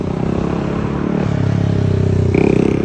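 Motorbikes run along a street nearby, a loud buzzing engine drone that rises and shifts in pitch as the bikes rev and pass, with light clatter mixed in.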